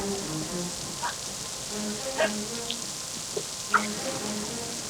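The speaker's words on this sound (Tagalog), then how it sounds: "Mamaya, titila din yung ulan, ha?" Steady rain falls through a forest, a constant hiss with scattered drips and patters, fairly close and even throughout, with faint sounds in the background.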